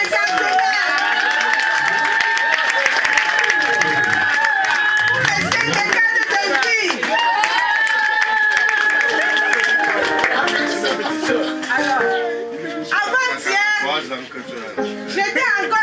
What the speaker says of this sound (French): Applaudissez pour mes 50 ans.